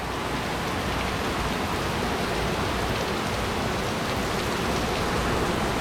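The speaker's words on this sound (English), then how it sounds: "I love sitting out here on days like this when it's raining like this, just listening to the rain." Hard soaking rain pours down outdoors, a dense, steady hiss of drops striking surfaces that stays loud and unbroken from start to finish, with no voices.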